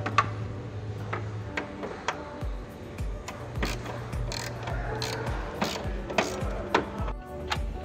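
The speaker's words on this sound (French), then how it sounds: "Toujours avec une clé de 12, retirez les 4 vis de fixation du radiateur de la caisse." A 12 mm wrench ratchets out the radiator mounting screws on a Toyota Land Cruiser LJ70, giving repeated close clicking and ratcheting strokes with metallic ticks and a faint low hum underneath.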